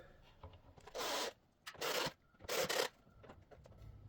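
Three screws on a Jeep Wrangler taillight housing are turned by hand to mount a bracket, giving three distinct rasping, scraping bursts about a second apart, close and fairly crisp against a quiet background.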